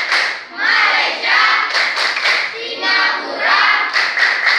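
Children clap in a rhythmic chant, the ASEAN member-countries clapping game, with repeated bursts of hand claps in a steady pattern close by, several groups of claps across the span.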